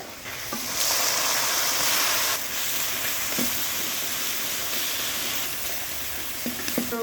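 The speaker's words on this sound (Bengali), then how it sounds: "এখন রসুন লাল লাল করিয়া ভাজি লিছি" Garlic and leafy greens fry in a pan, giving a steady close sizzle and hiss with occasional soft stirring clicks, no voices.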